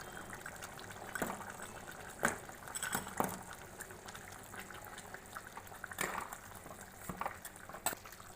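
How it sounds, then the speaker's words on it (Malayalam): Coconut pickle (thenga achar) boils in a pot with irregular bubbling pops and soft liquid gurgles, close and moderately quiet, with no voices. "അച്ചാർ നല്ലോണം തിളച്ച് വരുന്നുണ്ട്."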